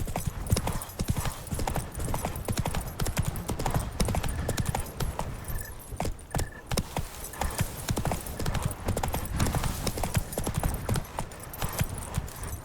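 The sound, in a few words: horse galloping in The Witcher 3 video game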